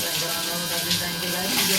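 Steady rushing water pours from a tap fed by a borewell pump, a continuous broadband hiss without pause.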